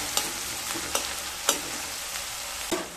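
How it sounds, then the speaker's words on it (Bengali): Chopped ginger and green chillies frying lightly in a pan for Bihari-style aloo chokha, a steady close sizzle punctuated by a few sharp scraping taps of a spatula stirring at irregular intervals. "এবার সমস্ত উপকরণগুলোকে হালকা ভেজে নেব।"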